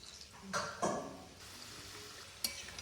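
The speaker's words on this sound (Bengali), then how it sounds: "এইগুলো আগে ভেজে নিই" Pithe cakes frying in hot oil, a soft steady sizzle with a couple of brief louder bursts as pieces are moved or dropped in, close by and fairly quiet.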